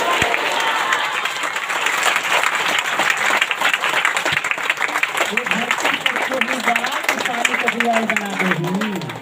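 A church congregation claps steadily and loudly for several seconds, a dense continuous patter with a few voices calling out over it.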